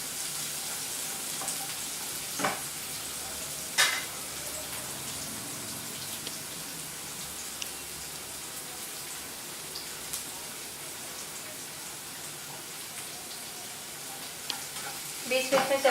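Sliced onions sizzle steadily in a hot pan for okra fry, with occasional louder scrapes and clinks of a spoon stirring them, close and continuous with no talking.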